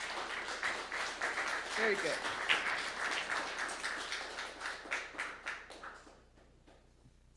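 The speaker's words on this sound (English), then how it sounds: "Let's give him a round of applause while we're doing that." An evening conference audience gives a round of applause, steady dense clapping that rolls on for about six seconds before dying away, with a brief spoken remark over it.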